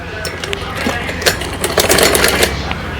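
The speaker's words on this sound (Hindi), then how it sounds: "इस पर हम सिलाई लगा लेते हैं" A sewing machine runs close by, stitching a folded two-inch hem along the waist of a child's night suit, a steady mechanical whir with a few louder clattering stretches and no talk.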